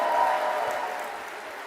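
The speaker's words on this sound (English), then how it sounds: "Big round of applause." Applause rises for Martina as she is called to the stage at an Erasmus Generation opening plenary, a brief, steady wash of crowd clapping with no voices.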